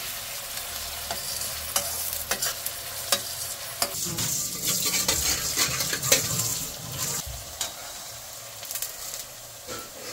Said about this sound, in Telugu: పెద్ద సైజు ఉల్లిపాయలండి సన్నగా కట్ చేసి వేసుకోవాలి. బాగా నూనెలో వేయించుకుందాం.